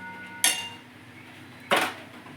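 Chicken momo soup stirred in a pot, heard as two distinct clinks of a utensil striking the metal pot, about a second apart, over a quiet steady background hum.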